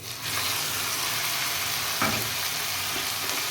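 Tomato paste frying in a pan with browned onions for a cabbage chicken curry, a steady close sizzle with one brief scrape or stir near the middle.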